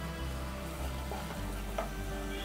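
Ginger garlic paste hitting hot oil with onions in a pan, a quiet steady sizzle with a faint stir or scrape partway through, brief and low in level.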